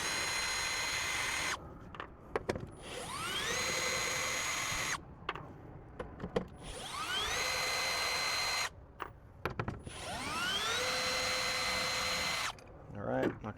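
A cordless power driver removes T30 Torx screws from a truck bed, whirring up in three separate runs with pauses between them, close and loud, with someone talking at times.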